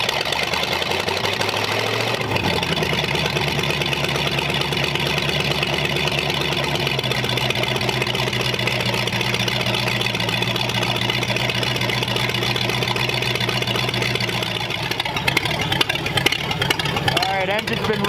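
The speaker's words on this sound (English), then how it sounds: "Engine's been running for about 10 or 11 minutes or something like that." A 1937 Ford Flathead engine idles steadily for a long stretch, a close, continuous mid-pitched rumble that shifts slightly in tone partway through.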